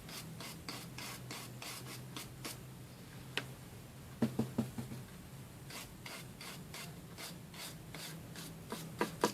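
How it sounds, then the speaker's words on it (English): A stiff brush scrubs paint onto a small wooden toy truck, making quiet, rhythmic dry rasping strokes with a few sharper taps, close and faint with no talking. "Just using a stiff brush because I don't want it like thick"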